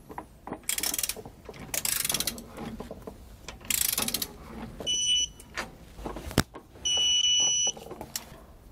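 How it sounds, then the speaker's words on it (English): Ratcheting wrench clicks and metallic tool noises while U-bolts are torqued down during a Roadmaster Reflex steering stabilizer install on a 2017 Fleetwood motorhome, with rapid clicking bursts, a sharp knock and two steady whirring tones near the end. "then we can go back and torque our U-bolts to the specifications found in our instructions"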